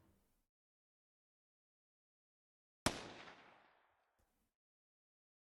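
A single gunshot from the visual novel Anonymous;Code cracks out sharply after near silence, then rolls off in a long fading echo and tail, alone with no talking.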